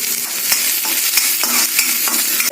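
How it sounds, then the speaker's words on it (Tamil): Urad dal and chopped onion frying in a little oil in a pan, a steady close sizzle broken by repeated scraping strokes of a spoon stirring, with no voices. "உளுத்தம்பருப்பு கொஞ்சம் போடுறேன், வெங்காயம் போடுறேன்."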